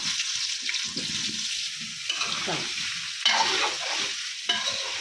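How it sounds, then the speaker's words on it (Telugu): Small peeled potatoes sizzle and fry in hot oil in a pan, with a steady crackling hiss and occasional stirring scrapes close by, no talk heard. "ఇవి నూనెలో మంచిగా ఉడకాలి మనం"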